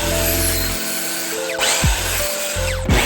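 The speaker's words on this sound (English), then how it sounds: "I cut out the head of the hammer on the miter saw." Miter saw cutting dense white oak for a mallet head: a loud steady motor whine with two plunging cuts that drop the pitch as the blade bites, close and alone.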